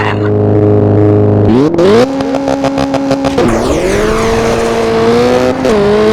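A rally car engine in Richard Burns Rally revs loud and close, its pitch climbing and dropping through several sharp gear changes, with the raspy drone continuous throughout.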